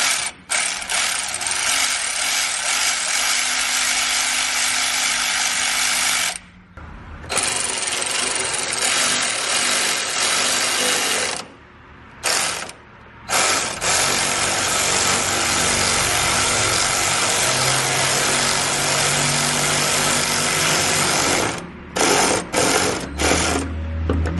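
A power tool cranks down a bolt to spread the CVT clutch on a CFMoto Z950 Sport, giving loud, close ratcheting whirs in long runs broken by a few short pauses.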